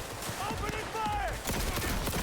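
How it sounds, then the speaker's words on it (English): Gunfire in the Cyberpunk 2077 video game, a short burst of rapid shots under voices and game chatter, ending in a louder final volley. "Opening fire!"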